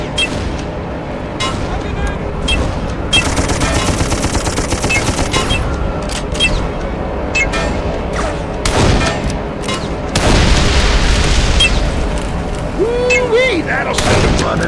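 Gunfire and explosions as hydrogen tanks on a Zeppelin are hit in Darkest of Days against German troops: sustained rattling volleys with heavy booms, loud and continuous, while voices talk over the battle.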